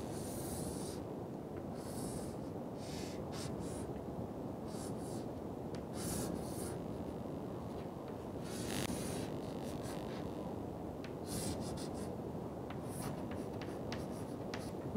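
Pen or chalk scratches across a board as an aircraft diagram is drawn during an engineering lecture. The strokes come close together in a quiet room and no one talks.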